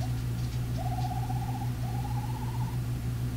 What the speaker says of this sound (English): It's coming from outside. It's going like, it sounds like a bird.